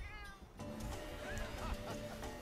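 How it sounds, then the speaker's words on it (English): A cartoonish cat cook meowing in Monster Hunter 4 Ultimate, a short chirpy meow sliding in pitch over light game music and chatter-like tones, close and fairly clear. "it sure is funny watching this cat cook"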